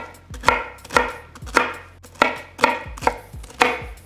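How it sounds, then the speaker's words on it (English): A knife chops pineapple into small chunks on a cutting board, about seven sharp, evenly spaced thuds close up with no talk. "and then we're going to cut into small chunks"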